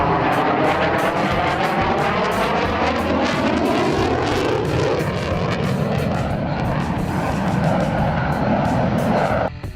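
Turkish TFX fifth-generation fighter jet flying, a loud, steady roaring jet engine with a slowly shifting whine sustained throughout, close and continuous with no talk.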